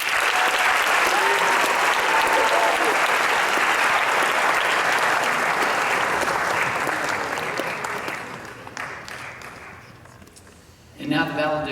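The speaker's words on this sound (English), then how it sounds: "Let's give him a round of applause" Audience applause at the 2019 APA high school graduation ceremony, a long dense roar of clapping that slowly thins and fades, then a voice speaks briefly at the very end.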